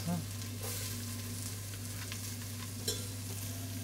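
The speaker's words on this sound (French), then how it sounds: "on va faire revenir nos petites échalotes" Shallots sautéing in olive oil and butter, a steady close sizzle and crackle with a few soft stirring scrapes, alone without any talk.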